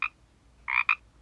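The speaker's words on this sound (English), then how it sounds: "Ribbit. That's the word scientists use to describe the call of the Pacific chorus frog." A Pacific chorus frog gives a two-part ribbit, one short croak followed after a pause by a quick double croak, close and clear against near silence.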